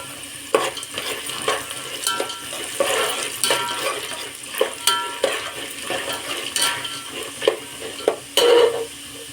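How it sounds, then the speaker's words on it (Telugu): Peanuts and roasted chana dal being fried in a pan, with rhythmic scraping and clattering as the mixture is stirred over a light sizzle, close and fairly loud, with no talking. "పుట్నాల పప్పు కూడా వేసుకొని బాగా వేయించుకోవాలి"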